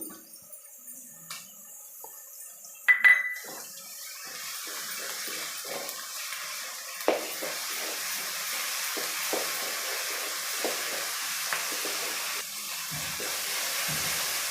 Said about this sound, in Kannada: ಫ್ರೈ ಆಗಿದೆ ಈಗ ನಾನು ಶುಂಠಿ ಬೆಳ್ಳಿ ಪೇಸ್ಟ್ನ ಹಾಕ್ಕೊತಾ ಇದ್ದೀನಿ